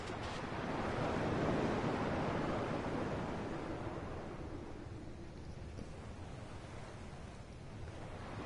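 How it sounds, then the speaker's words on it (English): Ocean waves wash in the Kingdom Hearts HD 2.5 Final Mix video game, a broad steady surf roar that swells and then eases slowly, heard alone without talk. "At least the waves sound the same."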